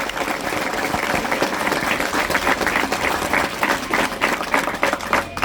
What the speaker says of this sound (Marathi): आपण टाळ्या वाजवून अभिनंदन करूया.